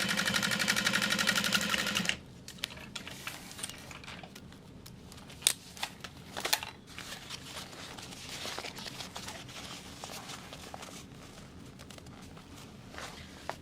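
A sewing machine stitching a 3/8 inch seam on a small handbag runs in a close, steady whir for about two seconds, then stops, followed by quiet handling noises and faint clicks.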